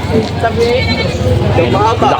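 Goats bleat repeatedly amid a crowded livestock market in Padre Garcia, Batangas, their wavering calls rising over steady crowd babble and nearby talk.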